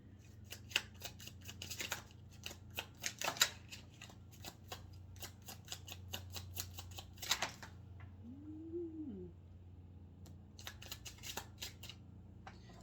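Quick bursts of crisp tarot card riffling and snapping, coming in clusters with short pauses between, close up, with a brief soft whistle-like tone in a gap.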